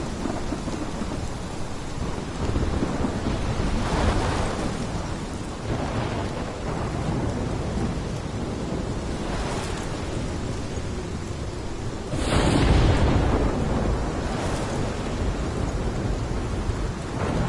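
Heavy rain pours steadily in a Life is Strange storm while thunder rolls and cracks several times, including a sharp, loud burst near the end, with no voices.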